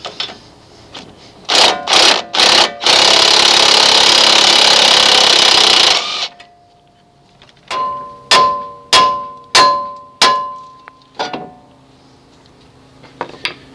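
Steel hammer taps on a 1989 Chevy K1500 Silverado's steering knuckle to knock out the original outer tie rod, sharp loud metallic strikes in a short series, with a long harsh grinding burst between them.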